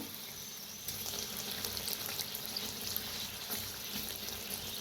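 Kachori frying in a pan of hot oil, giving a steady, faint bubbling sizzle that runs through the clip with a brief louder surge of crackling partway in, with no voices.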